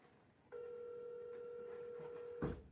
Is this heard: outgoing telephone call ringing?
yes